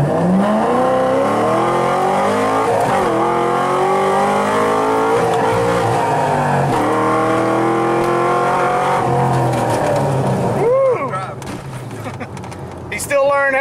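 A Corvette makes a pass, its engine loud and close with repeated revving that rises and falls in pitch, tires squealing, before it pulls away and fades as voices speak over it.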